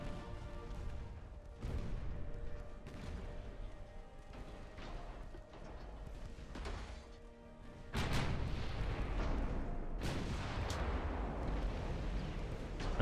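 Naval gunfire and shell hits in the Ultimate Admiral Dreadnoughts game: heavy booms and blasts recur throughout, growing louder and denser in the second half over a steady mechanical rumble.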